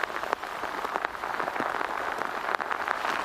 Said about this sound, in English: the rain's washing over that mud and it's muddying it up